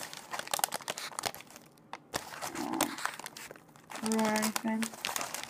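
The packaging around a shipped Venus flytrap plant is crinkled and torn open by hand. There are several bursts of close crumpling and rustling, and a person talks in between.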